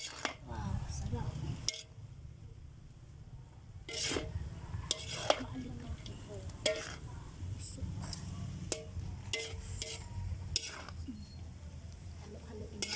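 A spoon scrapes and clinks around a cooking pan as food is stirred, giving repeated sharp knocks over a faint low sizzle, with people talking quietly in between.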